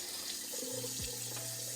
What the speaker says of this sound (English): always make sure to run cold water as you're pouring the boiling water in there